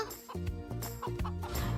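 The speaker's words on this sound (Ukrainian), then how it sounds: "курочки, яких він віз на ферму, розбіглися" Animated cartoon hens that have scattered from a poultry truck cluck in quick, bouncy, rhythmic bursts, several calls in a row, clear and close over light background music.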